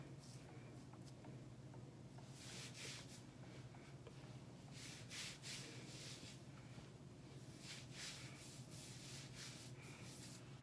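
Soft, close rubbing of hands working hair product into thick curly hair, a faint, steady run of swishing strokes at low volume.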